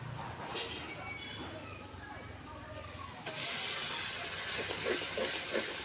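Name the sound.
onion paste sizzling while frying for chicken masala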